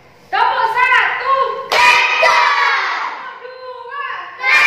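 A Grade 4 classroom of children does a rhythmic concentration clap routine, bursts of group clapping and shouted chanting voices alternating with a teacher's speech.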